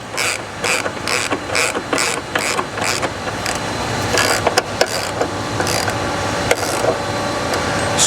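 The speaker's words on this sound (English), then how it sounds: "Tighten the 13mm bolts." A hand ratchet clicks in rapid rhythmic bursts, loud and close, while tightening a 13mm bolt on a subframe brace of a 2015-24 Ford Mustang, with creaks and metallic ticks between strokes.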